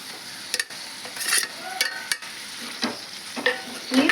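Ridge gourd pieces frying in oil in a pan for a curd chutney: a soft, steady sizzle broken by scraping stirring strokes at uneven intervals, close by and without talk.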